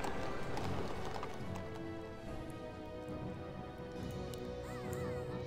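Rapid clip-clop of cavalry horse hooves in a Warcraft III battle, a dense busy patter of hoofbeats mixed with a brief whinny and game noise, steady and fairly loud throughout.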